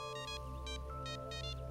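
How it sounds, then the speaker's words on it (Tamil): A phone ringtone for an incoming call plays steadily at moderate level, with bursts of melodic high tones repeating over a sustained low backing, no talking. "எனக்கு ஃபோன் வருது."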